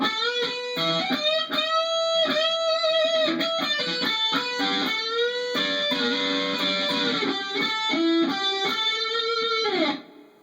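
An electric guitar with a distorted, overdriven tone plays a solo phrase alone, bending and sustaining lead notes in quick blues-box runs before cutting off sharply near the end.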